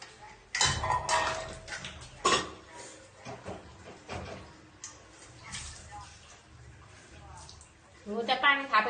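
Dishes being scrubbed and rinsed by hand near running water, with pots and cutlery clattering in sharp bursts and quieter clinks, mostly under a conversation.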